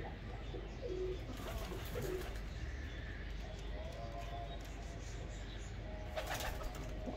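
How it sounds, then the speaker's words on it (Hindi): Pigeons in a breeder loft coo softly in low, repeated calls over a dense, steady background hum, with occasional faint chirps. "ये देखिए ये जालदार कबूतर है मेरे,"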